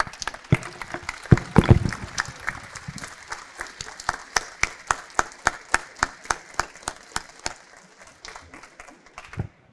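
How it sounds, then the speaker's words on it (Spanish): An audience applauds, a dense burst of clapping that thins into slower, rhythmic unison claps before fading out. "yo creo que merece un aplauso"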